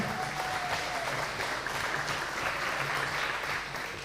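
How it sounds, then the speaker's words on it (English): Sustained applause from an audience honoring the competition podium at a Queensland lead climbing state titles event, a steady dense clapping that runs evenly throughout with crowd noise and no speech. "a round of applause for our competition podium today"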